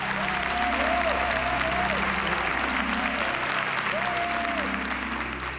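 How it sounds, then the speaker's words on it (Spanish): A studio audience at a televised joke-telling contest claps loudly and continuously, a dense wash of applause with a voice speaking over it and held musical tones underneath. "Angelito, un fuerte aplauso."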